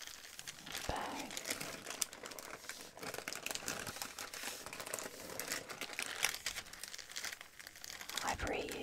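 A reused plastic bag crinkles and rustles continuously up close, with soft crackling throughout and no talking.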